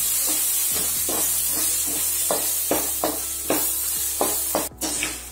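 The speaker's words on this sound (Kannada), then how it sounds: "ಪಲಾವ್ ಎಲೆ ಹಾಕ್ತೀನಿ. ಮೆಣಸು ಮಿರ್ಚಿ ಹಾಕ್ತೀನಿ. ಇದು ಸ್ವಲ್ಪ ಫ್ರೈ ಆಗಬೇಕು." Bay leaf and pepper fry in a pan for mutton curry, giving a constant close sizzle with regular scraping stir strokes roughly every half second and a sharp hiss near the end.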